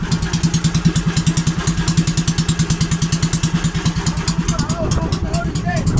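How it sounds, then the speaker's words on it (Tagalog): A boat engine chugs close by in a fast, steady rhythmic pulse, loud and continuous throughout. "Ating makina."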